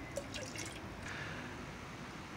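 Liquid plant food supplement poured into a water mixture, with a few light drips and splashes at the start and then a soft, steady trickle, close and quiet.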